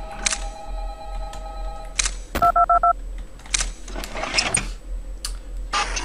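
A telephone in the Five Nights at Candy's 2 video game gives a short run of quick electronic ring pulses among scattered clicks and game sounds, with no voices.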